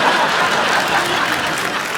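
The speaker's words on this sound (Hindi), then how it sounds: "जोरदार तालियां" Dense, loud applause from a studio audience at a comedy show, a continuous wash of clapping at close range that holds steady for the whole moment.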